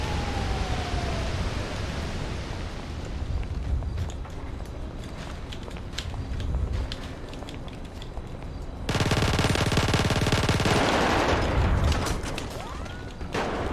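A video game gun battle with Uzi fire: dense rapid bursts of gunfire and crackling shots in a continuous barrage that grows louder and busier partway through, with no one speaking.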